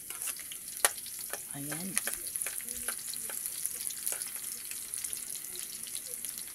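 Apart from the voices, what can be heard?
stirring onion and garlic frying in a pan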